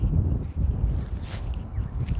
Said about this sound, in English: Is that an engine?